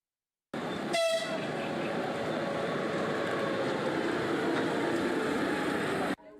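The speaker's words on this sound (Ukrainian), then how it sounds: "Це евакуаційний поїзд, який прибув 22 серпня до Рівного." An evacuation train pulls into the station at Rivne, a loud horn blast near the start giving way to a steady, continuous rumble of wheels and cars that fills the whole stretch before cutting off.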